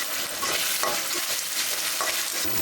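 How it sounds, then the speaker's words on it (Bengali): Garlic and ginger paste frying with onions and chilies in a hot pan, a steady loud sizzle with scraping stirs throughout. "রসুন বাটা এটা দিলাম আদা বাটা এটা দিলাম"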